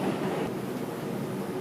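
A New York City subway 4 express train bound for Burnside Avenue runs near the Bronx's 149th Street–Grand Concourse stop, giving a steady, loud, broadband rumble and roar of wheels on track with no voices.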